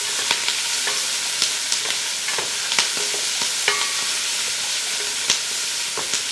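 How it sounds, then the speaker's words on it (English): Onion and mushrooms sauté in a pan with a continuous close sizzle, punctuated by irregular sharp scrapes and knocks of a spoon stirring against the metal. "we just stir these for a couple of minutes until the mushrooms are"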